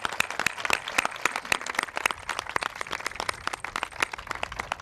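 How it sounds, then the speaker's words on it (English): Applause from a seated audience at a White House event for military families, dense rapid clapping sustained evenly throughout, moderately loud and fairly close, with no voices over it. "Let's give them a round of applause."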